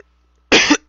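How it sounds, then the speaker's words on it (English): One short, sharp cough sounds close by, breaking an otherwise quiet moment. "Sorry about the cough."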